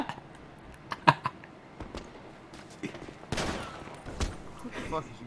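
Scattered gunshots crack out in a rough burst, some sharp and close, others duller, with voices audible in the background.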